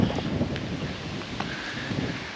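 Wind buffets a microphone outdoors near a National Trust cottage at Avebury, a steady low roaring rumble with gusty surges throughout and no voices.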